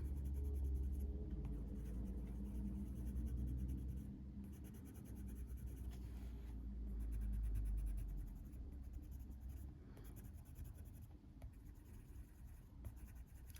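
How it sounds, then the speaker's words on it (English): White colored pencil burnishing the edges of flower petals on a paper coloring page, a soft continuous scratchy rubbing with steady strokes throughout, close and fairly quiet. "So I'm going to use the white just on the edges to burnish the edges"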